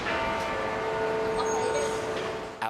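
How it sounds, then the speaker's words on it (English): A large bell at Old City Hall in Toronto tolls for the late Queen, its sustained ringing tone humming steadily under faint city and crowd background noise throughout. "bells tolled across the GTA, like the one at Old City Hall, tolling once per minute 96 times to mark the late Queen's age at death"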